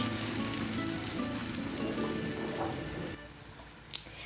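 A Shahi pancake frying in a pan gives a steady soft sizzle as it is flipped, fading quieter partway through, followed by a couple of sharp utensil knocks near the end.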